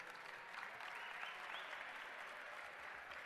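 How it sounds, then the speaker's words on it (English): A crowd at a netball tournament event in Swakopmund, Namibia applauds steadily throughout, a dense, even patter of clapping heard from a little distance with no break. "May I ask that we please give him another round of applause"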